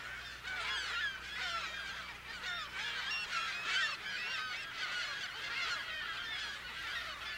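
A colony of California gulls calls at Mono Lake, a dense overlapping chorus of raucous cries and squawks, steady and somewhat distant, with no voices.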